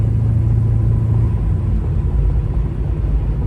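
A 1971 Oldsmobile Cutlass with a 482 Olds engine driving, its engine a steady, loud low rumble throughout with mild throttle swells and no talk.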